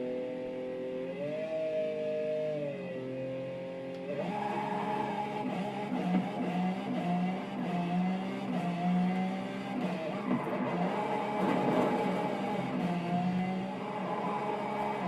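A car engine in the racing video game Forza Horizon 5 revs in stepped climbs with launch control set, its pitch rising and settling, then roaring steadily and loudly with throttle swells throughout, no voices over it.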